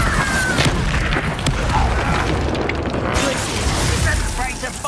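Incendio fire spell cast in Hogwarts Legacy, heard as repeated booming bursts and popping blasts over a dense, loud layer of continuous game sound.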